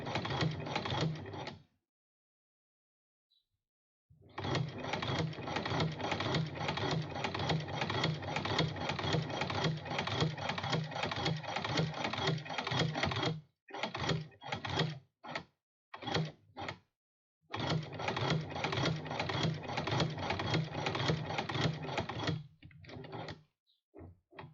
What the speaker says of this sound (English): Let's reverse a little bit so we can reverse stitch